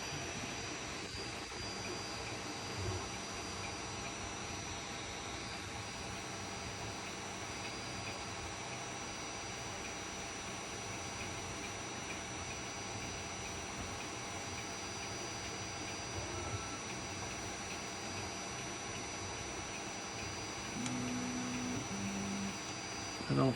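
An Ender 3 S1 Pro 3D printer running auto bed leveling: a steady mechanical whir and hum drones on continuously, motors running, with a few faint beeps near the end.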